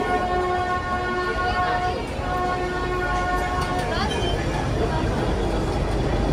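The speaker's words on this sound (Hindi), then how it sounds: "टॉय ट्रेन आ रही है मैं उसी के लिए रुक गया" A small Nilgiri mountain toy train pulls into Ooty station with steady rumbling wheels and a sustained tonal horn or whistle, while someone talks over the noise nearby.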